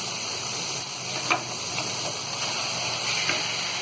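Tomatoes hit a pan of frying keema, producing a continuous close sizzle with a few brief stirring scrapes and spatters, no talk.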